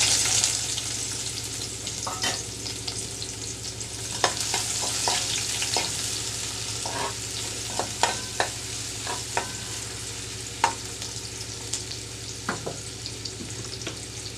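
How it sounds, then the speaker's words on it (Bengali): Chopped onion and garlic hitting hot oil in a pan for a water spinach stir-fry, giving a continuous bright sizzle with repeated sharp taps and scrapes of a spatula, close and without speech. "পরিমাণ মতো তেল গরম করে নিয়েছি দিচ্ছি পেঁয়াজ রসুন"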